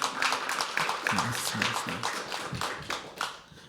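Applause from the crowd at a live poetry open mic, a continuous patter of clapping hands with a voice speaking briefly over it, then thinning slightly toward the end.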